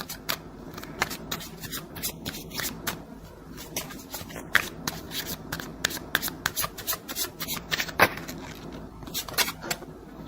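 Tarot cards are shuffled by hand, soft papery riffles and rubbing taps in quick, irregular bursts close by, with no talk.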